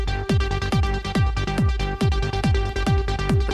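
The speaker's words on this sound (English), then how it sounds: "Oh, now we're getting that good panning." Ableton synth pattern with random panning: a bright, plucky repeating sequence of short notes with falling pitch sweeps, a steady even rhythm over a sustained tone, clear and close with no talking.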